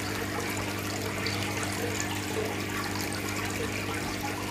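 Aquarium water for an arowana tank runs in a steady, close, continuous wash of flowing and trickling water while a pH meter is dipped in, with no talk over it.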